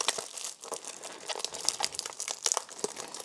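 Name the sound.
ripping open Blu-ray packaging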